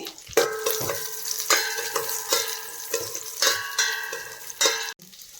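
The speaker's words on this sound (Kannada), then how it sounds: "ತುಪ್ಪ ಬಿಸಿ ಆಗಿದೆ ನಾನು ಇವಾಗ ದ್ರಾಕ್ಷಿ ಗೋಡಂಬಿ ಬಾದಾಮಿ ಮೂರು ಹಾಕ್ಕೊಳ್ತಾ ಇದ್ದೀನಿ" Raisins, cashews and almonds frying in hot ghee, a steady crackling sizzle with repeated metallic clinks of a spoon stirring against the pan.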